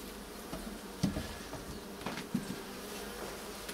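Honeybees buzz steadily around a beehive during spring work in an apiary, forming a dense, continuous hum with a few brief nearer buzzes passing close.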